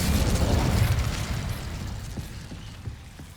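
The Incendio fire spell cast in Hogwarts Legacy, a loud, close burst of roaring flame that swells at once and then fades away over a few seconds, with faint mechanical clicks in the tail and no talking.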